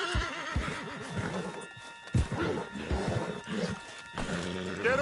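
A horse in the Red Dead Redemption 2 video game neighs and whinnies in loud, repeated bursts over about five seconds, with hoof clip-clops and busy game ambience running underneath.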